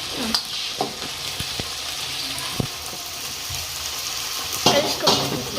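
Okra being fried in a pan with softened tomato and onion, a constant sizzle with sharp scraping and clinking of a utensil against the pan at irregular intervals, close by, with no one talking.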